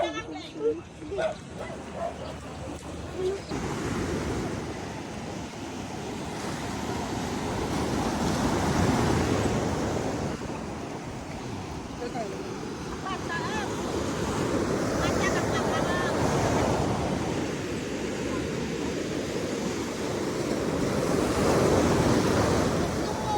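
Heavy ocean waves and gusting wind roar along a shore, swelling and receding in long surges, with people talking over them and a dog barking at the start.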